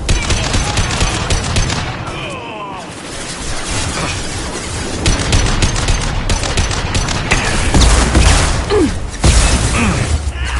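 Rapid, loud bursts of automatic gunfire from a firefight in the video game Mass Effect 2, continuous and close with crackling impacts throughout.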